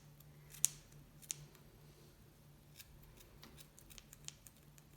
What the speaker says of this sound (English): not very sharp scissors